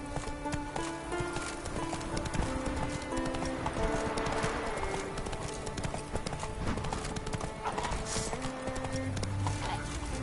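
Roach the horse galloping in The Witcher 3, the rapid, continuous clip-clop of hooves sitting inside a dense, loud game mix with music, a short whinny near the end.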